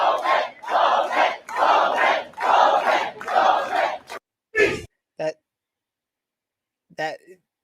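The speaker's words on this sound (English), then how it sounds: "Then he starts to cheer his own name with the crowd." A crowd chants a politician's name, Bowman, in a loud, rhythmic two-beat cheer repeated several times, then breaks into scattered shouts and brief cries before falling quiet.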